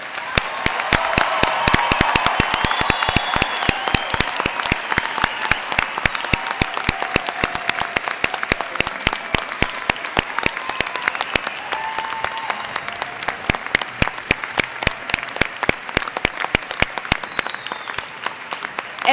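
Sustained audience applause for new graduates at a fall university commencement ceremony, dense rapid clapping from a large hall crowd that swells early and continues steadily throughout.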